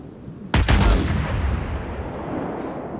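Japanese battleship main guns firing shells in a naval video game, one sudden heavy boom followed by a long rumbling decay, with a faint later rustle.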